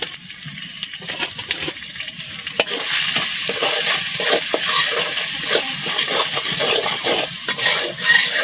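Spice paste stirred and fried in a pan: a loud, continuous sizzle broken by the repeated scrape and clatter of a spoon against the metal. The frying grows fuller after the first few seconds, with no talking.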